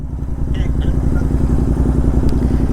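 A Royal Enfield GT650 motorcycle engine idles close by with a steady, rapid low thrum, small clatters and a faint voice briefly audible over it.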